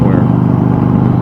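A motorcycle engine runs at steady speed while riding, a loud, close, rhythmic low thrum with pulsing exhaust beats and a voice speaking over it.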